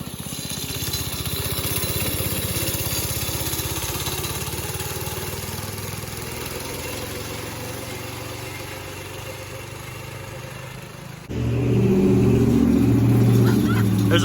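Small Briggs and Stratton pull-start engine on a homemade go-kart runs steadily outdoors with a buzzing drone, then louder and rougher near the end, as the engine picks up.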